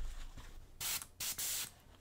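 An airbrush sprays primer paint onto a model in short, close hissing bursts, three of them in quick succession, with quiet handling noise between them.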